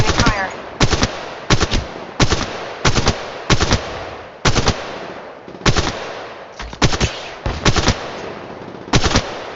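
Gunfire in the mobile battle royale Apex Legends played on an iPhone XR, about a dozen loud sharp shots or short bursts spaced irregularly across the stretch, close and dominant.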